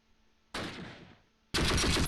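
Two loud, close tank gun shots in the Close Combat World War II strategy game, a 1944 battle in fog, each a sharp broadband blast with a short decaying tail, about a second apart.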